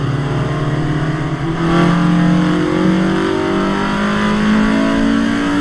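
A Honda race car engine in the Assetto Corsa Evo racing game holds a steady, loud mid-pitched drone with a rich harmonic tone, rising slightly as it revs on throughout.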